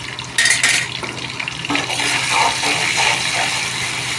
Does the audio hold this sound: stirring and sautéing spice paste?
yes